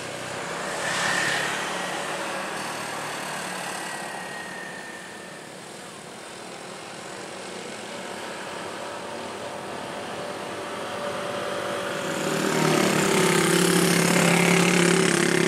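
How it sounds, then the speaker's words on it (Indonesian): A Mitsubishi L300 minibus labours up the steep, winding Jumprit climb on the Tambi–Dieng road, its engine droning steadily at a distance, dipping slightly midway and then swelling louder and rougher as it nears. "angkutan L300 berusaha menanjak"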